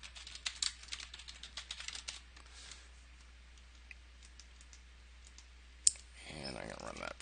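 Quick bursts of computer keyboard typing, close and crisp, with a pause before a single sharp click and a short run of keystrokes at the end.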